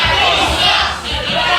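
Wrestling crowd at an ORW live show in Clacton loudly jeering and shouting at a wrestler, a dense, continuous roar of many voices filling the hall, dipping briefly midway before swelling again.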